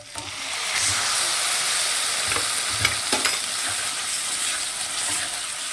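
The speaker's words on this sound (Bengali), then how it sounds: "এখন আমি এই মাছগুলো দিয়ে দেবো" Loitta (Bombay duck) fish slipped into a hot frying pan with spices and a little water, giving a steady close sizzle with a few faint stirring clicks and no voices.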